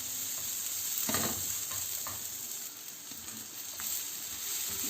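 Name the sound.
onion rings frying on high heat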